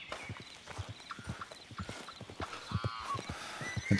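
Horse hooves clip-clop steadily in the Western video game Red Dead Redemption 2, a close, rhythmic trot with occasional snorts and whinny-like calls layered over ambient outdoor game sound.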